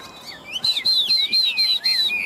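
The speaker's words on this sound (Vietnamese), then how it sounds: "Đây em nha, toàn chim thuần đẹp." Tame caged wild-caught songbirds sing a bright, rapid run of high chirps and whistled trills, close and steady, with no talking.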